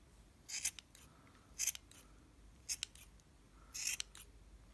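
Scissors snip through a yarn pompom in four crisp, separate cuts spaced about a second apart, close and fairly quiet against a soft background hiss, with no voices.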